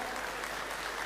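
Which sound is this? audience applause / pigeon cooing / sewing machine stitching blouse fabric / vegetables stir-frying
audience applause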